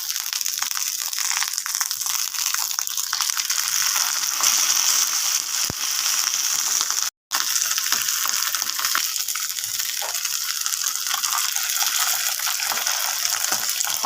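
Cauliflower leaf paturi fries in a covered pan with a loud, continuous sizzling roar that cuts out for a moment midway and then resumes just as strongly, close by and with no voices.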